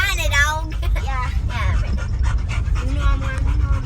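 Dogs pant in quick, steady breaths close by, with people talking over them throughout.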